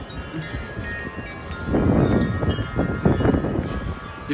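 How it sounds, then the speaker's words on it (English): A strong gust of wind sweeps across an outdoor microphone on a very windy day, starting as a low rumble and swelling into loud, buffeting wind noise that stays heavy to the end. "I think a gust is coming."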